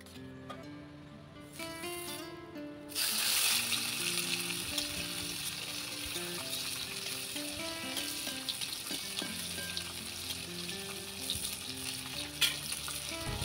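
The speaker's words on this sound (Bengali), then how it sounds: "তো ভাবলাম বড় মাছটাই ভেজে দিই।" A large fish frying in oil in a pan over a clay stove makes a continuous, fairly quiet sizzle that starts abruptly after a brief moment of quieter background and holds steady throughout.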